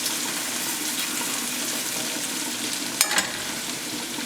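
Butter and flour roux sizzling steadily in a pan, a continuous soft frying hiss with a brief louder clatter near the end, no talking.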